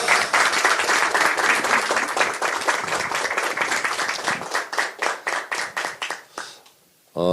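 Crowd applause at a political rally for a party nomination announcement, dense clapping that thins into scattered individual claps and fades to near silence before a voice returns.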